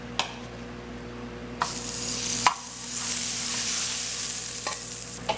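French toast fries in butter in a pan, a steady close sizzle that swells after the bread is laid down, with a few sharp clinks and taps of utensils against the pan.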